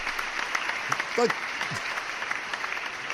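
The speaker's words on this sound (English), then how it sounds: "stop applauding" A studio audience applauds, with a dense patter of clapping running continuously beneath a voice, which speaks briefly over it.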